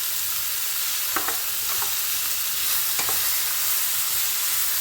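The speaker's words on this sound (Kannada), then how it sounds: "ಟೊಮ್ಯಾಟೊ ಆ್ಯಡ್ ಮಾಡಿದ್ಮೇಲೆ ಒಂದು 5 ಮಿನಿಟ್ಸ್ ಫ್ರೈ ಮಾಡ್ಕೊಳ್ಳಿ ಸಾಕು" Tomatoes fry in a pan for chutney with a steady, even sizzle, broken by a few sharp spatula taps and scrapes near the middle.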